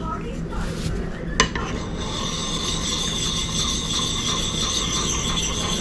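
Gransfors Bruk small forest axe being sharpened: a continuous, even rasping stroke of file or stone on steel, loud and close, with a brief sharp knock near the start and no talking.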